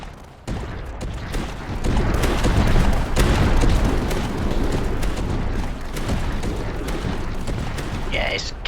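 Turret fire in the Joint Operations tower defense game Tower Dominion: a thick, continuous barrage of overlapping gun blasts and booms that kicks in suddenly and keeps rumbling loudly throughout.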